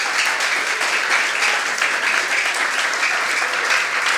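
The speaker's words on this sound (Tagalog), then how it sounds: "Pumalakpak po tayo ng todo." Loud, sustained applause from a church congregation during a Sunday worship service, many hands clapping continuously and evenly throughout.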